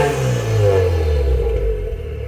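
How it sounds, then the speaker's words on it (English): A car engine fitted with an HKS blow-off valve idles with a steady low rumble, then swells into a couple of revs before settling, heard close and alone with no talking. "Figure I'd give you guys a couple of nice revs."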